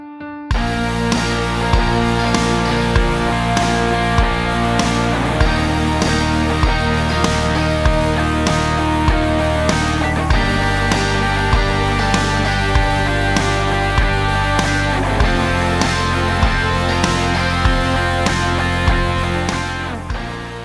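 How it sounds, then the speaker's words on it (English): An electric guitar strums distorted power chords in a steady rhythmic worship-style pattern, each chord ringing full and loud with no talking over it. "If I just play power chords, it'll sound like this."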